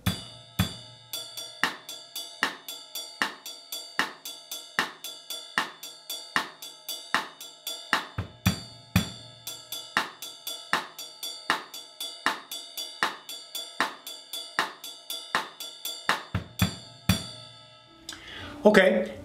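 Drum kit groove of cymbal bell and rim clicks with bass drum added on the first two eighth notes and the last sixteenth of the second bar, a steady repeating pattern of pings, clicks and low thumps, ending with brief noise.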